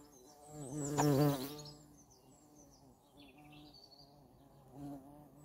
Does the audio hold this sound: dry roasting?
no